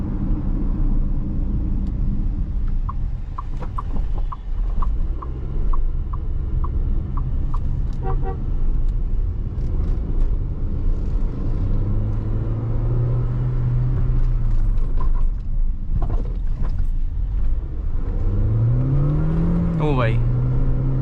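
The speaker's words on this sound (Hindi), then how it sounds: "इतनी तगड़ी साउंड है इंजन की, वो परेशान करने वाली नहीं है, कंप्लीटली स्पोर्ट साउंड" A Tata Sierra Hyperion's engine drones steadily while driving, a loud continuous rumble with short horn toots along the way and people talking over it.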